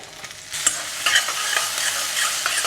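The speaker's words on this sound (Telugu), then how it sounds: "కొంచెం నూనె కొంచెం కాగితే తాలింపు వేసుకుందాం కొంచెం ఆవాలు కొంచెం జీలకర్ర" Mustard seeds, cumin, grated ginger and garlic crackle in a little hot oil, tempering a millet khichdi. A loud, busy sizzle is broken by sharp pops and spoon clinks against the pan.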